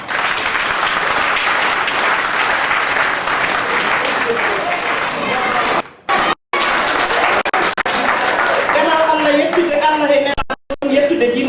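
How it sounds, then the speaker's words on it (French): Audience applause at a Senegalese event on African youth, loud and sustained, with two brief dropouts near the middle and voices speaking over it toward the end. "On applaudit déjà."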